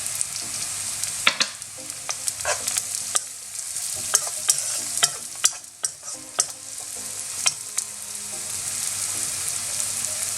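Small pieces of green chili fry in a pan with softened onions for a vegetable couscous, giving a steady close sizzle broken by frequent sharp stirring clicks and scrapes, with no talking.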